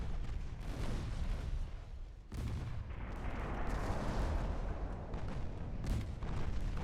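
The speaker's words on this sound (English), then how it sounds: "Just start firing at the heavy cruisers" Heavy naval guns fire at heavy cruisers during a battle in Ultimate Admiral: Dreadnoughts, with loud, deep booms rolling into one another and a sustained rumble of battle underneath.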